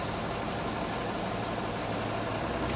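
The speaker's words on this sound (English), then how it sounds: "We'll go ahead and put it in first gear. We'll try to roll this vehicle forward." A truck engine idles in first gear with the parking brake set, a dense, steady, loud rumble with constant vibration and no voices over it.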